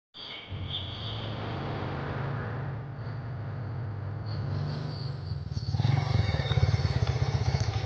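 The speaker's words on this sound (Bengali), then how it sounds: "এই তুই ক্লাসে যা আমি বাইকটা রেখে আসতেছি" A motorcycle engine idles with a steady low drone nearby, then grows louder and rougher near the end as it revs or moves off.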